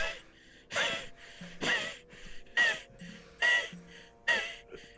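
A voice imitates heavy, ragged breathing, like someone hyperventilating after a full sprint beyond a sand dune: six loud, rasping gasps in a steady rhythm, close up, with no other talk.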